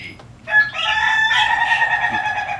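An ayam ketawa, the Indonesian laughing chicken, crows close up with a loud, long, wavering call lasting a couple of seconds, after a brief soft sound at the start, over faint background noise.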